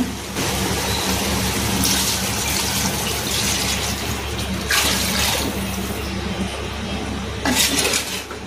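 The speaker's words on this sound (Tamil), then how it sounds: "இப்போ நம்ம தண்ணி ஊற்றிக்கலாங்க." Water pours steadily into a pot of chicken biryani with a loud, continuous splashing rush that lasts throughout, swelling a few times as the flow changes.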